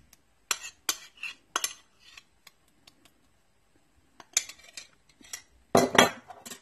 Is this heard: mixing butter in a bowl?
yes